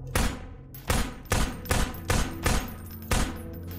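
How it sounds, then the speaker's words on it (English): Handgun shots in Half-Life 2 with RTX, seven sharp, evenly spaced blasts roughly half a second apart, loud and close with no talk. "The handgun takes 7 shots."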